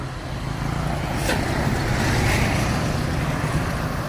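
An intercity bus drives past on a road in Muara Bungo during the Lebaran homecoming travel season, a steady loud engine and tyre rumble that swells gently as it passes close by, with no talking.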